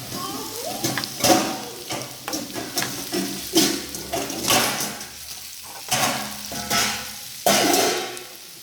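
A spoon stirs spiced potato fry seasoned with coriander powder in a pan, giving repeated scraping strokes over a soft sizzle in an uneven rhythm up close, with short bursts of clatter.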